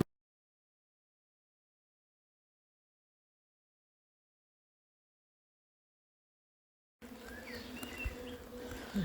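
Honeybees buzzing around a beehive, a steady close hum that starts abruptly after a long stretch of silence and continues to the end.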